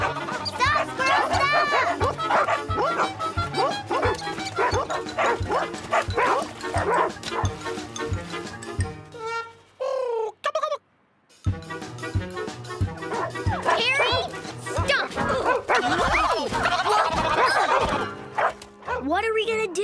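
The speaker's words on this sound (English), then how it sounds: "The dogs are out of control and they're getting dirty." Several cartoon dogs bark and yip nonstop in a loud, busy scene at a dog wash, with whimpers and voices mixed in, a brief drop near the middle, then more frantic barking.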